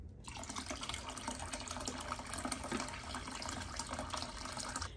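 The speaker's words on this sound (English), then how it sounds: "I'm just going to put a little bit more of the hot water in there" Steady rush of hot water pouring from a tap into a sitz bath basin on a toilet seat, a continuous splashing flow with no voices.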